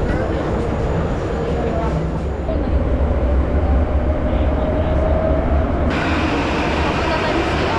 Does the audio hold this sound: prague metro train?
yes